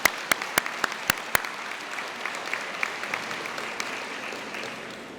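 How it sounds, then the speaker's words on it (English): An audience applauds at a school convocation, a steady wash of clapping with several loud, sharp claps close by near the start. "another round of applause for Mr."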